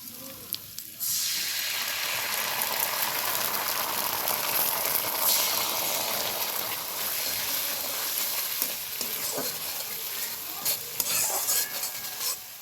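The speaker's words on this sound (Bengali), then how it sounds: "সসটা দেওয়ার পর আমি ভালোভাবে নাড়াচাড়া করে নিয়েছি।" Tomato sauce and red chili sauce are stirred through green chilies and curry leaves in a hot frying pan, giving a steady loud sizzle with scraping stir strokes throughout, and no talk.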